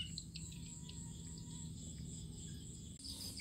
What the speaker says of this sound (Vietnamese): Trong này nhái dữ lắm, các bạn thấy kêu ghê chưa.